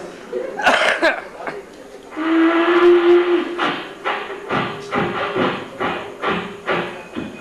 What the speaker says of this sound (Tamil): ஒரு ட்ரெயின் வந்துட்டு இருக்கு